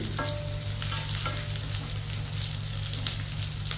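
Bitter gourd sautés in a pan with a loud, continuous close-up sizzle and crackle. Low hum and faint utensil clinks run underneath, and no one talks.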